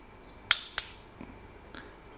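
A sharp metallic click rings out from a SUZUME torque wrench, followed by a second softer click and a couple of faint taps, quiet and close in an otherwise still space.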